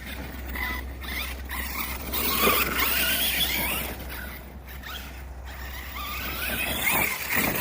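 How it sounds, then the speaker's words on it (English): An Arrma Kraton 6S RC truck's electric motor whines steadily with metal spur gear chatter and scrabbling over a rough track, the pitch surging and easing as it drives around nearby. "And that metal spur gear sounds awesome."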